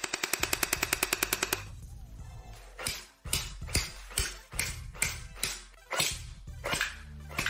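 Toy blaster fired on full auto at a target: a quick mechanical burst of evenly spaced clicks, then a string of sharper irregular pops and thuds.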